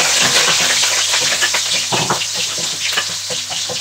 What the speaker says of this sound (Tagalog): Naka-preheat na yung ating, mainit na yung ating kawali. So, mag-sauté na tayo.